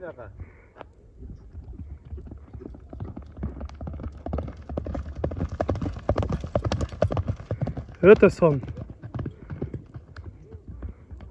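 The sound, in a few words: horse hooves walking slowly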